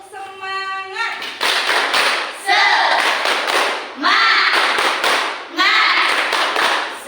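A school class performs the tepuk semangat, a rhythmic spirit clapping chant, with bursts of group clapping in patterned rhythm and voices calling along between the claps.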